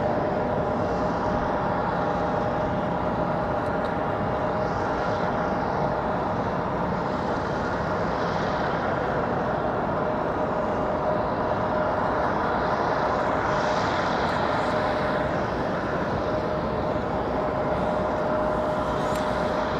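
Southwest airliner taking off from runway 5 right at Raleigh-Durham International, a steady, broad jet engine roar sustained for the whole stretch at moderate distance, with no talk over it.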